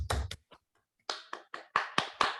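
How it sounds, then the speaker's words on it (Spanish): A small group at a soil microbiology workshop claps sparsely and quietly: a few scattered hand claps, a short pause, then a string of separate, evenly spaced claps. "un aplauso porque se han dedicado tiempo a sí mismos"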